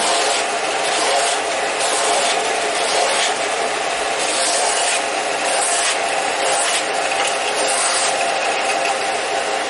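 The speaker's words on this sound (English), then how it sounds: "Now again, I'm planing it." A hand plane shaves wood smooth for a child's rocker, a continuous loud rasping and hissing with repeated strokes blending together, close up and with no talk.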